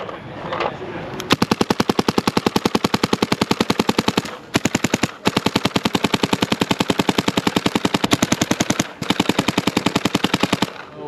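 Paintball marker fitted with a Dye UL-I barrel firing long rapid strings of sharp, evenly spaced pops, broken by two brief pauses, loud and close.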